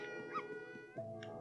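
A dog in the video game Yoshi's Crafted World whimpers and yips in short, high, quiet cries over a soft background of game music.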